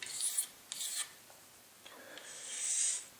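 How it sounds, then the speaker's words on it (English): A sharp utility razor blade scrapes old residue lightly off a guitar's binding, making several soft, close, dry scraping strokes. A few short passes come first, then a longer drawn-out scrape. "I'm going to take a sharp razor blade, utility blade, and I'm just going to scrape this lightly"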